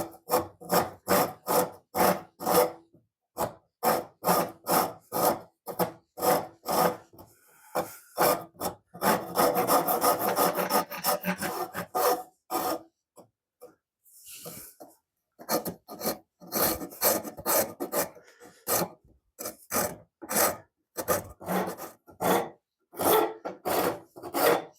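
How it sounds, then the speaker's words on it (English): A Japanese rasp files a wooden Queen Anne table leg in quick, rhythmic close-up strokes, with a denser continuous burst midway, a few brief pauses, and no talk. "I'm going to use this Japanese rasp."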